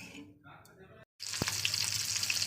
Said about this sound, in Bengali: তো চলুন তেল দিয়ে মাছটা ভাজা করে নিই